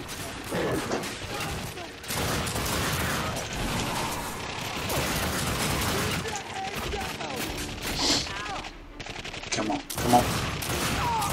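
Dense, continuous gunfire from The Darkness 2, rapid overlapping shots and crashes that keep a loud, busy wall of sound throughout, with a voice speaking over parts of it.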